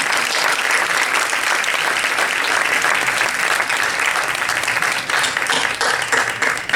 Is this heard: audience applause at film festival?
yes